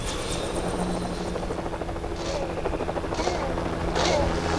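A helicopter from the video game LEGO Jurassic World approaches, its steady rotor chop and whine growing slightly louder over a busy game soundscape, with a few brief bursts of noise mixed in.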